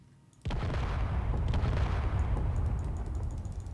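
In the video game Space Engineers, a bombing run sets off a deep, sudden boom that swells into a long rumbling roar, heavy and sustained as it slowly fades like distant echoing explosions.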